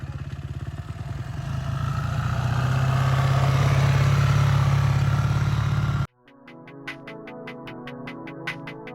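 A motorcycle engine roars and builds steadily while the rider pulls a wheelie on a desert trail ride from Barstow toward Las Vegas, then cuts to a lower, choppier idle-like pulsing.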